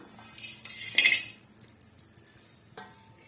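Metal kadai pan handled on a stove with clinks and scrapes of utensils, a brief clatter followed by a few softer knocks, close and fairly quiet with no talk.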